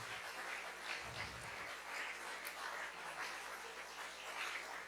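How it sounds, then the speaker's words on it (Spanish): A church congregation claps and cheers in praise, scattered applause rising in uneven swells throughout, moderately loud with a roomy, reverberant feel. "Denle un aplauso a la gloria de Dios"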